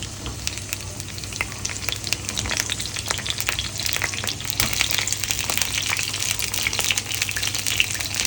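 Stuffed eggplants fry in hot oil, a continuous close sizzle crackling with sharp pops and spatters that grows slightly louder and busier as it goes, with no voices.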